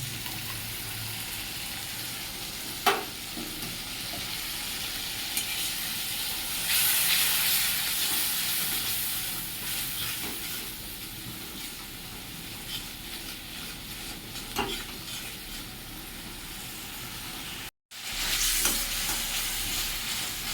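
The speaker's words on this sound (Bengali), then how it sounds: "আর পেঁয়াজ টমেটো সমস্ত কিছু খুব ভালো করে ভাজা হয়ে গেছে" Onions and tomatoes fry in a pan for an egg and taro curry, giving a long, even hiss and crackle up close, broken by a couple of brief clicks and one short gap near the end.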